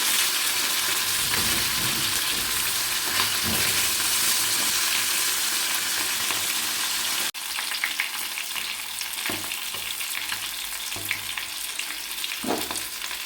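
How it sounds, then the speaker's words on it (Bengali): Loud, steady crackling sizzle of bata fish frying in hot oil, continuous throughout with a few sharper pops and bursts near the end. "মাছগুলো ভাজা হয়ে গিয়েছে"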